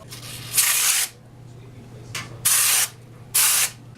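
Air compressor in a shop sending out three short, loud bursts of blown air, about half a second each, over a steady low hum.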